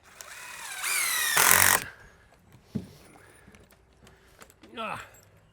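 A brief, loud whir of a power drill spinning up while building a shed foundation, then quieter knocks and a short voice.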